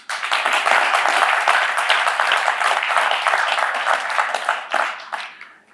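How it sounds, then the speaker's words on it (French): Audience applause greeting orphanage children at a gathering, loud sustained clapping from many hands that swells early, holds, then tapers off near the end. "Nous voulons saluer également leur présence par des applaudissements"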